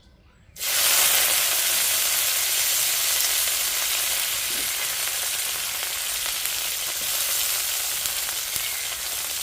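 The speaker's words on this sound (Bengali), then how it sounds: "ফোড়ন দেওয়ার জন্য এখানে নিয়েছি আমি পেঁয়াজ কুচি, শুকনো লঙ্কা এবং তেজপাতা।" Chopped onion, dried chilli and bay leaf hit hot oil in a village kitchen, bursting into a sudden loud sizzle that holds steady and close for several seconds.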